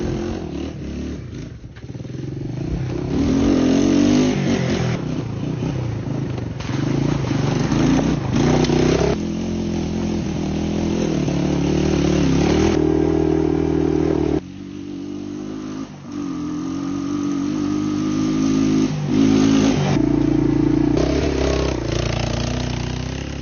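An original Yamaha three-wheeler engine runs loud and close for a long stretch, its revs rising and falling through repeated throttle blips between steadier idling passages.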